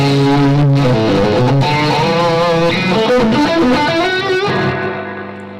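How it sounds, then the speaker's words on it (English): Distorted electric guitar chords ringing with heavy reverb, sustained and loud, with a washy tail fading toward the end. "Okay, this is the reverb."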